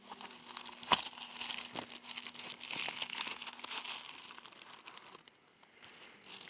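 Plastic packaging from a new pair of Yaoawe glasses crinkling and rustling as it is handled, close and continuous with a few sharper crackles.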